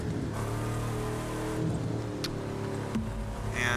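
A 1971 Camaro Z28 engine in The Crew 2 growls as a steady, loud V8 drone, swelling slightly midway with a brief higher whine, and no talk over it.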